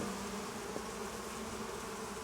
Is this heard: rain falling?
no